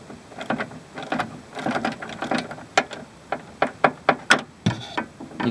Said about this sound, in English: start undoing the bolt.